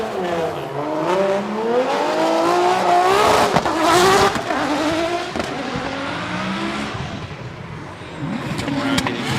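BMW E92 race car drifting at Okayama circuit in a drift competition qualifying run, engine loudly revving and rising in pitch with tire squeal, while a commentator talks over it.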